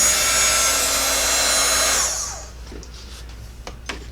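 A heat gun melting embossing powder on a handmade Valentine card blows with a loud, steady whooshing whine for about two seconds, then shuts off, leaving quiet room tone and a few light taps.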